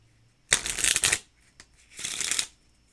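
Two quick bursts of a deck of cards being riffle-shuffled, close and crisp, separated by a brief pause.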